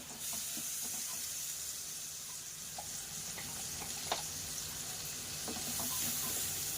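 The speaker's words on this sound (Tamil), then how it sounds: "இதை அப்படியே போட்டு நல்லா இதை மிக்ஸ் பண்ணி விடுங்க. நல்லா அந்த எண்ணெயோடு சேர்த்து இதை மிக்ஸ் பண்ணி விடுங்க" A thick ground paste of tomato, onion and cumin for fish curry sizzles and hisses steadily in hot oil, with soft scraping and clinking as it is stirred in the pan.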